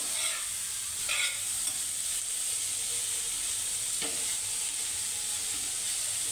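Boiled cluster beans (guar) cooking in a pan, giving a steady soft sizzle with occasional light stirring scrapes, close and continuous, with no voices.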